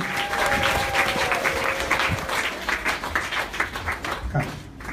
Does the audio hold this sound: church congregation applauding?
yes